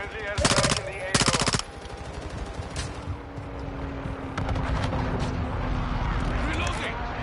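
Automatic gunfire in the Modern Warfare III shooter game: two loud bursts of rapid shots early, followed by a steady background of distant battle noise.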